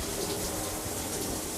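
Water runs through the plumbing of a Riverstone luxury fifth wheel RV during winterizing, a steady, loud, gushing flow like a tap running into a sink.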